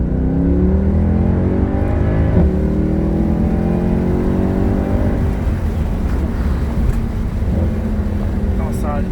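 A car accelerates hard, engine pitch climbing through gears in loud rising sweeps with a brief shift dip, heard close from inside as people talk over the roar.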